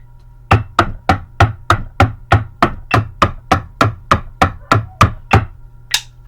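Snare drumline exercise from a high school marching percussion warm-up, played as a steady run of about fifteen evenly spaced, sharp, loud strokes in a tight rhythm, with a final lighter accent at the end.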